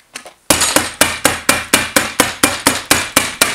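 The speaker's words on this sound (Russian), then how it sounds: "Бьет китайские скобы." A hammer tacker drives type 53 staples in a fast, even series of about a dozen sharp, loud metallic strikes, close up with no talking.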